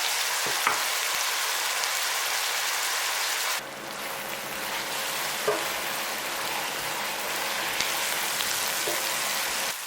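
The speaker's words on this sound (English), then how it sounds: "Fry your tomatoes until dry." Tomatoes fry in a pan with a steady, bright sizzle that crackles like rain, loud and close, dipping slightly partway through as the pan is stirred, with no voices.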